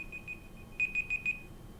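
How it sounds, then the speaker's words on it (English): A kitchen timer goes off during a card game: a few faint beeps, then four louder, evenly spaced electronic beeps in quick succession, with no talking. "When the timer goes off,"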